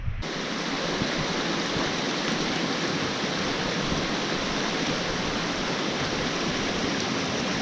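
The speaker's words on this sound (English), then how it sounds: "This is the pool, which is a deep portion of water along the Big Thompson, fed by a series of waterfalls." A series of waterfalls pours into a deep pool on the Big Thompson River, making a loud, dense, unbroken roar of rushing water that holds steady throughout, with no voices.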